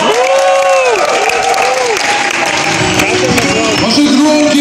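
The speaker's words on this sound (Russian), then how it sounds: "Ваши громкие аплодисменты." An audience at a fitness contest final in a Chelyabinsk restaurant applauds loudly and continuously, with crowd noise and some cheering throughout the short burst.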